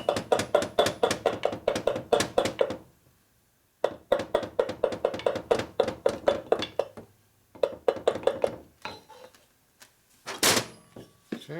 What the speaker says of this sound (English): So I'm going to knock this out until the wrist pin comes out.